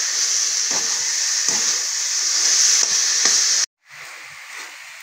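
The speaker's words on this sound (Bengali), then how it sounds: "আমি এরকম নেড়ে আর কিছুক্ষণ নেড়ে নেব।" Coconut and sugarcane jaggery mixture stirred in a pan for coconut sweets, a steady close sizzle with soft scraping strokes of the spoon at a loose rhythm, breaking off to near silence before resuming faintly.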